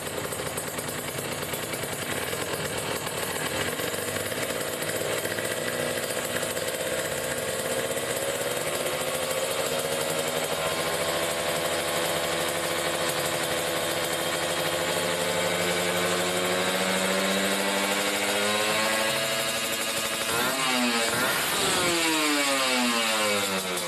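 Kawasaki Ninja RR two-stroke motorcycle engine idling steadily and loudly during carburetor tuning, the revs sagging slowly and then dipping and rising again near the end.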